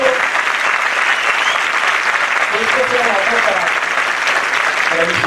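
Dense crowd applause at a Podemos political rally in Murcia, loud and sustained throughout, with faint shouts and voices mixed into the clapping.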